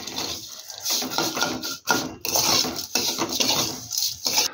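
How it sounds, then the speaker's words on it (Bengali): Fried vermicelli being mixed with sugar in a pan for Nawabi semai dessert: steady scraping and clinking of a utensil against the pan, continuous and fairly loud, with a brief pause midway. "সেমাইয়ের সাথে ভালো করে চিনিটাকে মিশিয়ে নেব"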